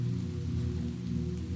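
Gentle rain pattering on windowpanes, a soft continuous wash of drops with a steady low hum beneath, even and unbroken throughout, no voices.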